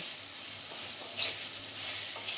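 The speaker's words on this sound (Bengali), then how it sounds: "1 চামচ কাশ্মীরি লঙ্কা গুঁড়ো দিয়ে ভালো করে নেড়ে চেড়ে নেব।" Eggplant fries in oil with salt, turmeric and Kashmiri chilli powder for a hilsa-and-eggplant curry. A quiet, even sizzle carries a few soft stirring scrapes, and nobody speaks.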